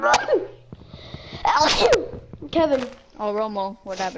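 A person sneezes sharply near the start, and someone speaks and chatters around it, with a second sneeze-like burst mid-clip amid the talk.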